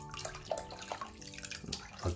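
Clean aquarium water pours steadily into a fish tank, splashing and trickling close by at a fairly loud level for the full stretch, with no one speaking.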